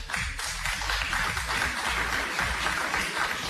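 Applause played on an Italian radio show, a steady wash of clapping from a crowd that runs evenly through the moment without any voices over it.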